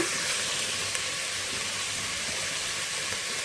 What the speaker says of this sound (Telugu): 3 నుంచి 5 నిమిషాలు కలుపుతూ వేయించుకోవాలి.